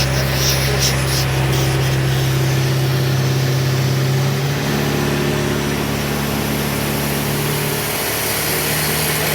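Engine of a Self Generating Nitrogen Servicing Cart running loud and steady with a droning hum up close, its pitch shifting partway through, with no voices over it.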